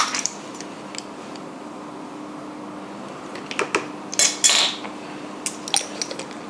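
Rum ball cake batter with salt and vanilla being beaten in a bowl: quiet, irregular metallic clinks and scrapes of the utensil against the bowl, growing into a busier cluster of clattering before trailing off.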